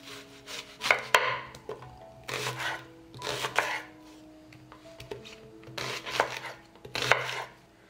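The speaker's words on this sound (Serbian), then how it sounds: "Jedan crni luk iseći ću na krupnije komade." A knife chops an onion into large pieces in quick bursts on a board, several rapid runs of cuts separated by short pauses, close and clear with no talking.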